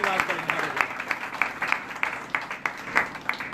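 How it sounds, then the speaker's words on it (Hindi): A congregation at a Bethel Prayer House worship gathering claps loudly and rapidly in welcome, a dense, steady run of applause close by, with a voice speaking over it. "आइए जोरदार ताली के साथ हम प्रभु का स्वागत करते हैं"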